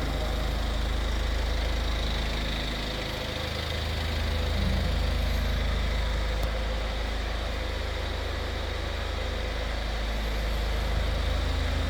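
A 2015 Kia Carnival (All New Carnival) 11-seat minivan engine idles steadily throughout, a low constant rumble with a faint hum, nearby and unchanging.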